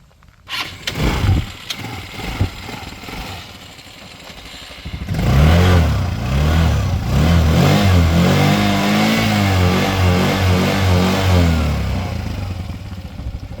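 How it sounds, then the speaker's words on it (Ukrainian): A MIKILON HAMMER 200 quad bike engine cranks and sputters a few times, then catches and runs loudly with a steady throbbing idle, close by and unbroken. "зараз заведу вам, послухайте, як працює двигун"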